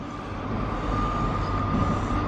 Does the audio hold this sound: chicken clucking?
no